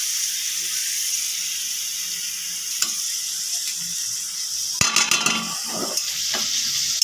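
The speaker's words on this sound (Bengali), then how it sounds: "তেলের মধ্যে পেঁয়াজ দিয়ে দেবো।" Sliced onions hit hot mustard oil with a steady, close sizzling hiss, then a burst of spoon-and-pan clatter and stirring near the end.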